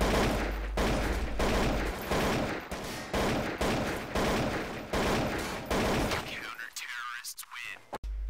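Gunfire in a Counter-Strike style shooter game, with dense rapid bursts of automatic shots repeating for several seconds, then thinning out into scattered pops and effects near the end.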